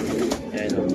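Racing pigeons coo softly and continuously at close range during a loft check at a Tuguegarao race clocking, a low murmuring flock sound with a few higher chirps over it.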